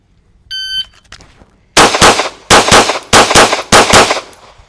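A shooting drill start tone, a short electronic beep, followed by four loud pistol shots fired in quick bursts at close range, with no talking.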